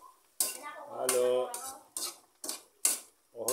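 A metal spoon stirs squid cooked in coconut milk inside a pot, with several sharp clanks against the rim in an uneven rhythm and a soft bubbling between them.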